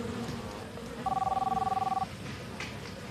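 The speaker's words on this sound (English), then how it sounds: "Chris's girlfriend, Audra Baumgartner, happened to call him on a cell phone." A cell phone rings once with a steady electronic trill that lasts about a second, set against a busy room and faint background voices.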